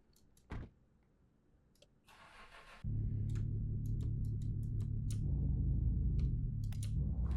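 A car in the video game Mon Bazou cranks with a short burst of noise, then its engine catches and settles into a steady, loud low rumble, with scattered light clicks over it.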